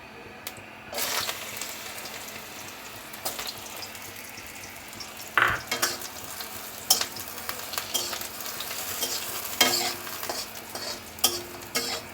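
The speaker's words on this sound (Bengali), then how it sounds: "আমি একটুখানি সর্ষের তেল দিয়ে নিচ্ছি এখন আমি এর মধ্যে বড়িগুলো ভেজে নেবো" Mustard oil sizzles steadily as lentil dumplings fry, with occasional stirring scrapes and clinks in a close, busy kitchen; no talking.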